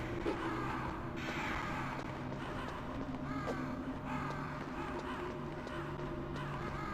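Crows caw repeatedly in the video game Metal Gear Solid, their harsh calls scattered over a dense, continuous game soundscape.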